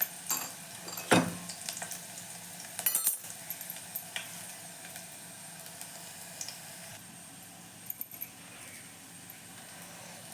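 Crushed garlic drops into hot oil and fries with a soft, steady sizzle in a home kitchen, with a few sharp utensil clinks near the start and around the middle.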